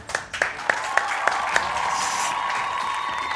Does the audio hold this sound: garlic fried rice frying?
no